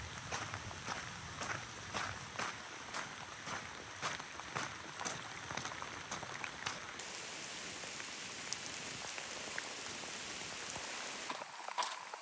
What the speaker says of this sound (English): It's raining quite hard, but it's going to pass